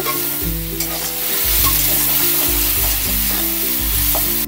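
Spice paste for a hog plum and prawn curry sizzles loudly in a pan over a raised gas flame, with continuous frying hiss and repeated stirring scrapes, close and unbroken.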